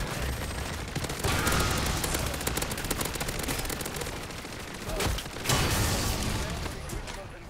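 Rapid automatic fire from the FJX gun in the video game MW3 Zombies, a dense continuous rattle of shots with a couple of louder bursts, loud and close.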